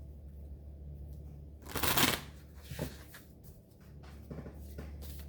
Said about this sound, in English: These cards are hard to shuffle right now. Let's do it one more time.